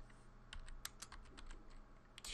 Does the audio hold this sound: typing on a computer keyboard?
yes